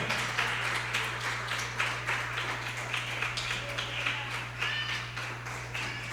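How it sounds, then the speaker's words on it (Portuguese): A church congregation at a Quadrangular service in Imirim claps along in a steady rhythmic beat, the claps bright and even over a constant low electrical hum. "aplaudir o Senhor bem forte, com alegria"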